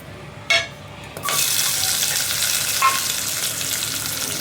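Onions and whole spices such as cloves, cinnamon and star anise sizzle in hot oil for chicken biryani, a sharp splash at the start then a steady, close frying hiss throughout, with no voices.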